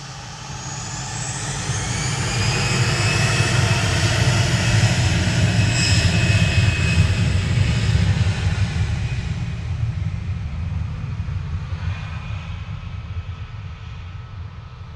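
A Norse Atlantic jet on flight 5876 from Bridgetown passes at Manchester Airport, its engine roar building to a loud peak midway with rising and falling whine, then easing off.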